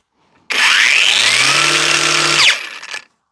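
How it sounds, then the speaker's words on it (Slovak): A Parkside PWSAP 20-Li G7 cordless angle grinder spins up sharply, holds a loud steady high whine for about two seconds, then cuts off and winds down. "Ťažko povedať, čo sa stalo, ale flexa znova funguje."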